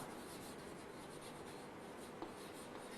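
Steady marker or chalk strokes rub across a board while examples are written out, a faint continuous scratching with one small tap near the end and no voice.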